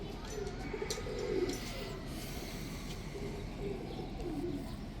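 Pigeons bred for long-distance flight coo softly in a loft, a low murmur of repeated coos under steady background noise and a few faint chirps.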